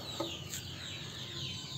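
Free-range village chickens cluck softly while being fed leftover scraps; a few faint clucks come from close by over a low, quiet background.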